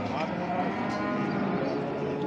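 Sacrificial calves at the Çorum livestock market give a sustained, loud moo, close by, with crowd noise in the background.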